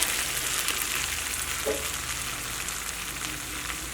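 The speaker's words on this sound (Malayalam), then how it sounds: "ഇപ്പോൾ നമ്മുടെ സോസൊക്കെ നോക്കിയാൽ നന്നായിട്ട് സൈഡിൽ നിന്നൊക്കെ നല്ല തളയൊക്കെ വരുന്നുണ്ട്" Chili chicken sauce bubbling and frying in a pan, an even hissing sizzle with faint popping that holds steady throughout, close and moderately quiet with no speech.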